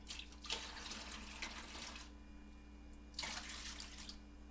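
Water poured from a container while making watermelon Starburst jello, a splashing burst in the first half and another near the end, moderately close over a steady background hum.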